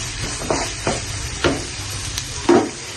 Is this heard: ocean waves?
no